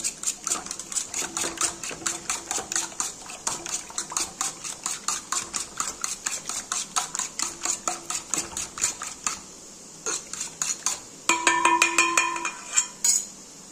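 Eggs are whisked briskly in a bowl, a steady rapid rhythm of clicking strokes close by, briefly pausing before picking up again.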